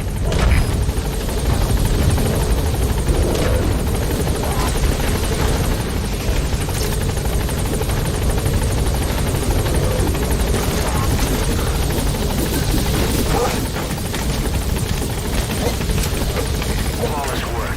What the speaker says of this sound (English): Chopper's touching down.